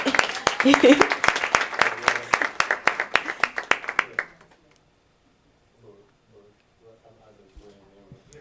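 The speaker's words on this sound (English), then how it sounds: "Let's give a round of applause to our city clerk." A crowd at a city council meeting claps steadily for about four seconds, loud and close, then the applause fades into quiet with faint murmuring voices.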